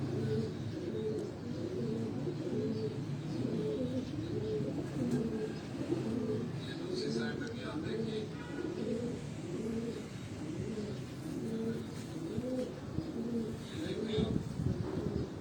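Steady, overlapping cooing of several Cheena pigeons, a soft rhythmic burbling that continues throughout at moderate volume, with faint rustling in the background.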